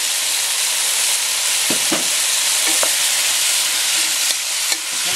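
Chopsuey vegetables with soy sauce stir-fry in a hot pan, a loud steady sizzle with a few short scraping stirs of the spatula mixed in.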